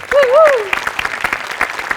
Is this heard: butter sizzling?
no